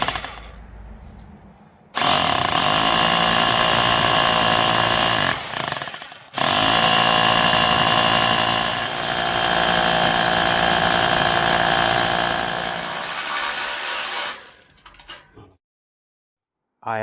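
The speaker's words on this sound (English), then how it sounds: "So now I'm going to be bolting it down to the ground." A power tool bolts a budget steel carport frame down to the ground, two long loud whirring runs split by a brief pause. A short quiet lead-in comes first, and the sound fades to silence near the end.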